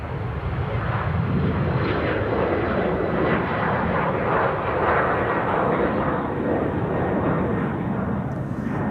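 An Embraer jet pushing back and starting up at Amsterdam Schiphol, giving a continuous rumbling engine roar heard from some distance, steady in level with gentle surges.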